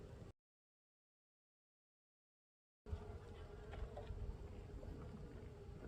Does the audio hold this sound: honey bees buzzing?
yes